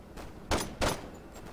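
Two sharp gunshots crack in quick succession at close range in Saints Row 2, with a fainter pop just before them, over a low background hum.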